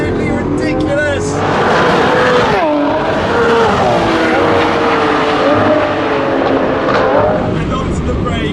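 A Lamborghini Aventador SVJ engine howls loud and close on a fast test drive, the revs rising and falling sharply through gear changes, while someone talks over it.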